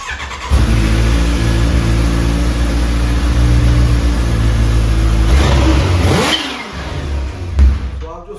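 A supercharged Kawasaki H2 motorcycle fires up and idles loudly up close, then gets a couple of sharp revs that rise and drop near the end.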